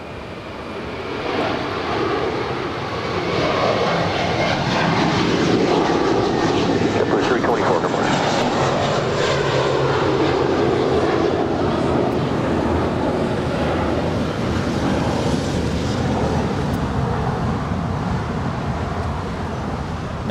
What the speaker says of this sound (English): That A350-900 about to touch down at 24 right there on the north side